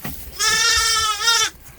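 A single sheep at a village farmstead lets out one loud, drawn-out wavering bleat lasting about a second, close by, with faint background noise around it.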